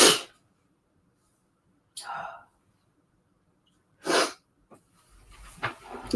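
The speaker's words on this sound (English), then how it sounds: "I have a sneeze brewing." A few separate sharp, breathy bursts, each a short sneeze-like blast, spaced by silences, with some faint rustling near the end.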